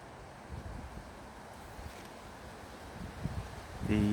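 Wind blows outdoors among trees, buffeting the microphone as a faint low rumble with soft gusts that strengthen at the end, where a voice briefly begins.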